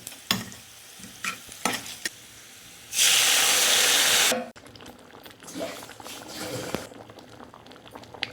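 Curry leaves and asafoetida hit hot tempering oil for cucumber dal, giving a loud, dense sizzle of about a second and a half, set amid quieter spoon and pot clatter with brief talk.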